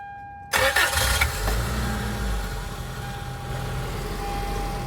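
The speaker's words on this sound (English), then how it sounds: "Let's just start this up and see what happens." A supercharged Toyota Previa engine cranks briefly and catches after a short quiet moment, then settles into a steady, close idle with a faint whine running through it.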